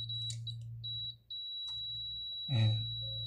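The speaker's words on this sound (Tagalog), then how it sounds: "titigil na yung tunog ng ating buzzer kasi naka-off na" A window-type air conditioner's buzzer, sounding from a shorted, faulty thermostat, drones a steady high-pitched electronic tone with a low hum beneath, briefly dipping before a short loud thump near the end.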